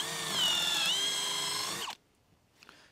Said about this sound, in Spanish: Vamos a comenzar haciendo unos agujeros con esta broca para madera de 8 milímetros